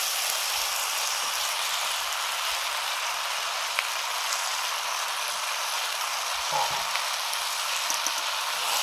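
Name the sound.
fish head and fried vegetables frying in a pan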